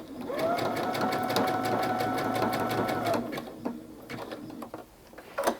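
Sewing machine stitching appliqué fabric for a gnome mug rug, a fast steady run of needle strokes for about three seconds, close and clear, then a pause with light handling clicks.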